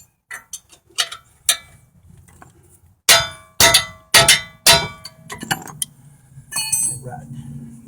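Wrench working on a brake caliper bolt of a 2012 Chevy Traverse, with several sharp metallic clanks and clinks, loud and close, in an uneven cluster, and quieter ticking between them.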